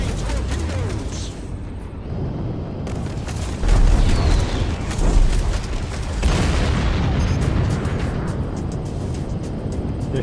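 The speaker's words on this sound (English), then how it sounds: "Launching torpedoes!" Torpedoes launch and explode in the space combat game Strike Suit Zero, with deep rumbling booms and whooshing blasts over a continuous dense roar of engines and battle noise that swells around the middle.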